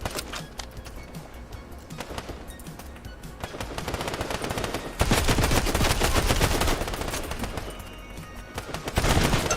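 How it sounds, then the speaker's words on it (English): Gunfire in the Fortnite video game during a competitive creative showdown match: rapid crackling bursts and heavy shotgun blasts pile into dense volleys, with no letup across the whole stretch. "nice shotgun shot from Rolio"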